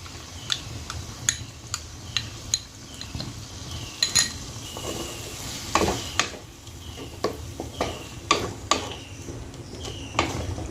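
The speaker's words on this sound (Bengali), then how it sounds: "এবার আমি ফেটিয়ে রাখা টক দইটা দিয়ে দেব।" Whisked sour yogurt going into a hot pan, a soft sizzle under repeated metal spoon clinks and scrapes against the pan, close and fairly steady.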